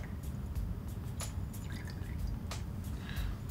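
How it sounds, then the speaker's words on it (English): A soap reaction mixture is poured into a brine solution in a lab, giving a low, sloshing pour with a few scattered drips and splashes, close and without talk. "I'm going to pour the solution in."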